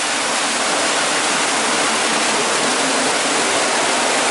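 A waterfall at the manatee pool of Sea Life Park in Weymouth pours in a loud, unbroken hiss of falling water, steady and close with no voices.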